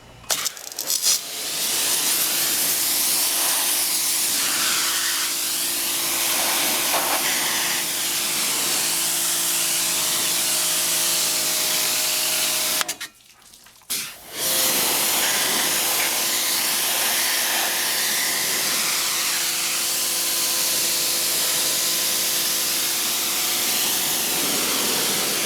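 A Karcher pressure washer spraying at full pressure gives a loud, steady, broadband hiss of water jetting. It cuts out briefly about halfway through, then comes straight back just as strongly and runs on alone.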